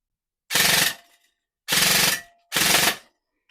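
Three short bursts of rapid full-auto fire from a modified Kriss Vector airsoft submachine gun, each about half a second long, close and loud.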